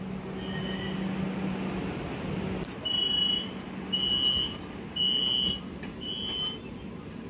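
A Kolkata Metro train on the Dum Dum to Howrah line idles with a low hum, then a series of high electronic door-closing beeps sounds in a steady repeating pattern, fairly close.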